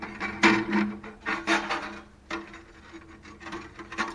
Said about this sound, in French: Et voilà, le ruban il est sorti.